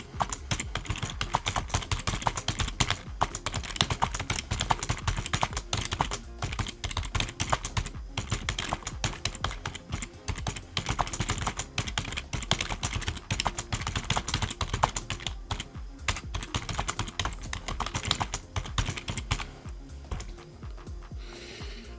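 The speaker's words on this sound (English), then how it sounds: "I'm just typing something into the chat." Rapid, continuous clatter of fingers typing on a computer keyboard, close and steady for the whole stretch, with only brief pauses.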